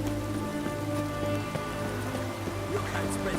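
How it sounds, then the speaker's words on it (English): Steady rain pattering on surfaces in The Witcher 3, a continuous dense hiss with droplet ticks under low game ambience, loud and close throughout. "Looks like rain."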